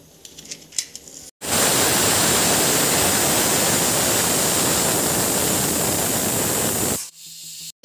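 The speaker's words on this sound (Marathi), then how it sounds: "हे आपल्याला मिरची, जिरं, लसूण हे भरभरीत असं मिक्सरला करून घ्यायचं आहे" A kitchen mixer grinder pulverizes chilli, cumin and garlic in a loud, continuous roaring whir that starts abruptly, runs for several seconds and then cuts off, with quieter handling noises before and after.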